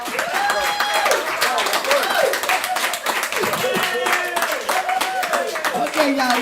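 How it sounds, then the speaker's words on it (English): Applause from an indoor church congregation, a dense continuous patter of clapping hands alongside excited voices and cheering throughout. "Give him a round of applause."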